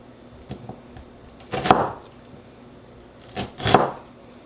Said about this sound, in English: I'm gonna come slice it this like so